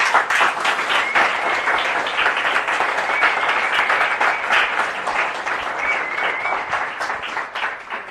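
Sustained applause from a church congregation at a Sunday service, close and loud, with rapid overlapping claps holding steady for several seconds.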